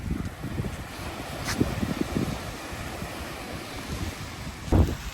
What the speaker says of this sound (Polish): Morze jest dzisiaj dzikie, bardzo jak widać e, wzburzone